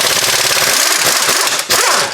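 An impact gun hammers on a long control arm bolt of a 2011 Toyota Sienna, a loud continuous rattling buzz with a brief surge near the end.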